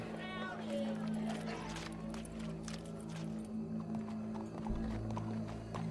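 Horse hooves clip-clopping at a steady trot, fairly close, over a constant low background hum with occasional voices and crowd noise mixed in.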